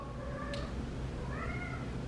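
A pet cat named Aiko answers when called with two short, close meows a moment apart, over a faint room hum and no talking.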